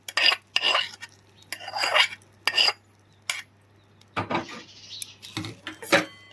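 Jeera rice is mixed with a cumin tempering in a pot, with repeated metal spoon scrapes and clinks against the vessel in uneven bursts, close and fairly loud, no talking.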